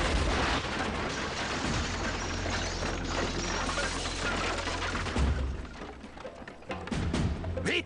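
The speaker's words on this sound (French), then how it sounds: "Allez-y, tirez." Gunfire in a dramatic action scene, loud bursts and cracks mixed with clattering mechanical noise and debris, sustained and chaotic, with faint voices under it.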